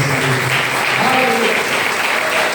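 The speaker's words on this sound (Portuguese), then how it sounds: "Você pode aplaudir o Senhor por essa palavra" A church congregation applauds the Lord during a worship service, bursting into dense, loud clapping that fills the room for a few seconds, with voices mixed in.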